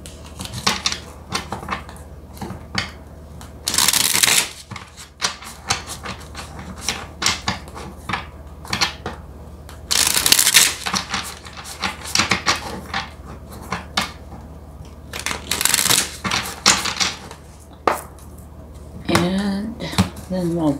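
Tarot cards are shuffled and handled in repeated quick riffles and soft slaps, with sharper bursts every few seconds, close up beside intermittent talking.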